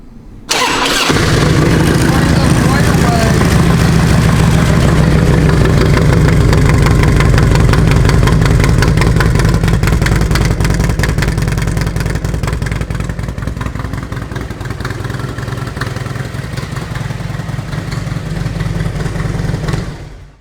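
A Harley-Davidson Ultra Classic touring motorcycle with 72,777 miles starts up and settles into a loud, close, steady rumbling idle, its note easing slightly in the last few seconds.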